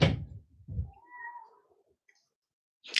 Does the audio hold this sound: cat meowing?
yes